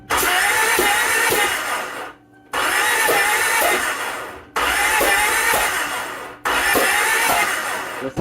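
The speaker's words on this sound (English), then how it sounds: "I'm gonna crank it." A Toyota 2TZ engine in a Tarago/Previa, freshly fitted with a new head gasket, cranks on the starter in four long bursts with short pauses between. Each bursts holds a steady rhythmic whirring, close and loud, without firing up.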